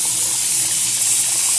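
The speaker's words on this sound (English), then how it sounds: "I'll turn the water on." Water runs in a Breville espresso maker as a loud, steady hiss and spray that holds throughout with no talking.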